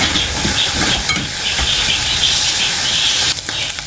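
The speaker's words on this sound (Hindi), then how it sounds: "अब ये हमने अच्छा सा फ्राई कर लिया है कीमा अपना।" Minced meat (keema) frying in a pan gives a steady, loud sizzling hiss that continues without pause from start to end.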